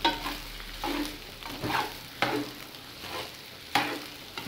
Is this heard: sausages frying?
yes